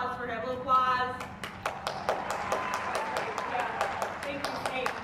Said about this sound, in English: How about a little applause for him, a little applause.